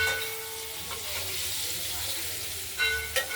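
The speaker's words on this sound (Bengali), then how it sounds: "পরিমাণ মতো নুন আর হলুদ দিয়ে আলুগুলোকে প্রথমে ভাজা করে নিচ্ছি" Potatoes fry with salt and turmeric in a pan for a cabbage curry, a continuous close sizzle with faint tonal sounds and a couple of sharp spatters near the end.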